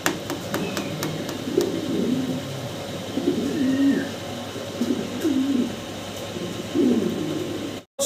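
Mundian pigeons, a large young pair, coo in soft, low, repeated phrases about every second and a half, close by with faint background hum and no talk.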